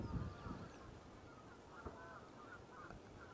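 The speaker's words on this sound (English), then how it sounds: "all you can hear is geese talking away and birds chirping." Geese honk repeatedly at a moderate distance on an RSPB nature reserve in the UK, their calls overlapping in an open, quiet outdoor setting.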